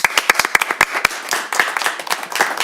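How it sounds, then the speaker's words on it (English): Applause at a city council meeting, starting as a few loud, sharp individual claps and building into a brief, scattered round from a small indoor group, close by. "can everyone join me in a round of applause for Tony Austin?"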